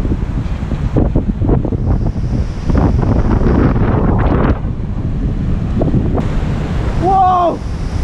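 Deep ocean waves surge and wash in heavy, roaring pulses under loud buffeting wind noise at sea, with a brief voice near the end.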